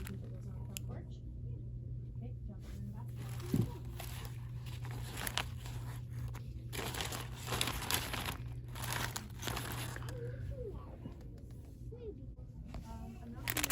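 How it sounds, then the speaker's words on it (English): Small plastic zipper-top treat bags crinkle and rustle as they are handled in a store, with irregular crackling bursts over steady background hum and light ambient noise. "How do you use these little zipper treat bags?"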